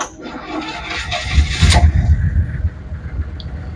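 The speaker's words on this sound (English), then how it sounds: "see how this beautiful machine starts up" A 1973 Buick engine cranks and catches, then settles into a steady low idle with a brief rev, close by and fairly loud with no talking.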